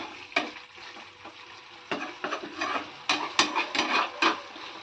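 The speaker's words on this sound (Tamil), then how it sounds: "ஒரு 10 நிமிஷம் அப்படியே பரட்டி எடுத்தோம்னா ரோஸ்ட் ஆகிடும்." Curry leaf prawn fry roasting in a pan, sizzling softly while a spatula stirs and scrapes in irregular bursts, close and without talk.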